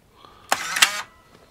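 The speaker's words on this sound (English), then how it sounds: "if I cover the lens, I can open the shutter" Nikon F50 35mm film SLR shutter releasing with a crisp mechanical clack, followed a moment later by a second click as it closes; close, clear and alone in an otherwise quiet room.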